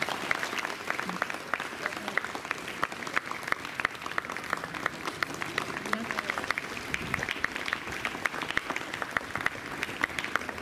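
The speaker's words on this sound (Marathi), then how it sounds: "जोरदार टाळ्या आपण वाजवूया." A seated audience at a Rajyoga meditation and Save Girl Child programme applauds in a steady, sustained wash of clapping at moderate distance, with faint voices underneath.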